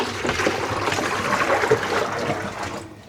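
Pink-tinged dye water left over from dyeing yarn is poured out in a steady, close splashing stream that runs unbroken for about three seconds, with no voices.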